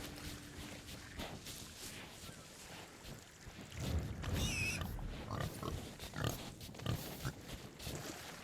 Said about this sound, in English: There's tons of piggies around